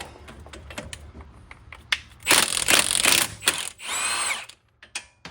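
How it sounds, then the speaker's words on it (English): A 22 mm wrench working a strut bolt on a 2007–2011 Toyota Camry, giving a run of close metallic ratcheting clicks and scraping bursts with short pauses between turns. "we take size 22 socket, put it not socket, like a wrench, and we're going to remove this bolt."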